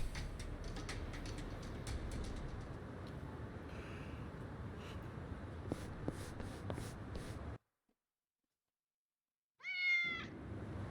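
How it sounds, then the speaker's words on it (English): A cat in Yakuza: Like A Dragon lets out a single clear meow near the end, right after a sudden silence that follows a stretch of busy rustling, shuffling game ambience. "Is that a cat?"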